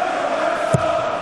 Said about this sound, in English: Crowd here are making an incredible noise